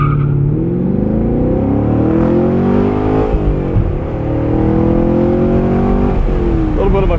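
A 2017 Chevrolet Camaro 2SS convertible with a manual gearbox and V8, heard from inside with the top down, its engine droning loudly and rising and falling in pitch through the revs, a voice briefly audible over it.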